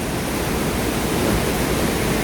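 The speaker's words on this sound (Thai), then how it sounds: "น้ำตกอยู่เบื้องนี้เนาะ" A waterfall near a cave on a mountain pours in a dense, loud, unbroken rush that fills the whole moment with no voices.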